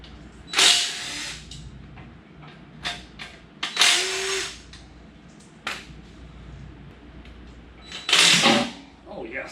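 Power drill or impact tool removing oil pan bolts from an LS engine in a garage, three short loud bursts of whirring and rattling with quieter clicks and handling noises between, close by.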